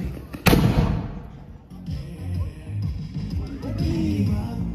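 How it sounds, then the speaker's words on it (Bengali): A fireworks shell bursting overhead: one loud, sharp bang followed by a crackling, booming tail, while people nearby chatter over the noise. "সেল ফাটছে"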